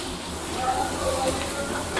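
Chili, curry leaves, capsicum and onion in hot oil give a steady close sizzle and crackle, with a voice talking over it.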